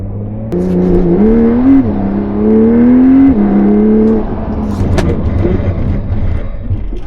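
A Porsche drives on the Hockenheimring race track during precision training, its engine note rising and falling steadily as it accelerates, loud and close throughout.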